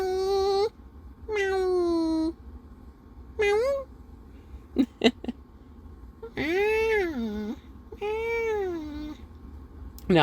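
A pet cat makes a series of whiny, drawn-out meows, some long and wavering, others short, close and clear with brief quiet gaps and a few faint clicks between them.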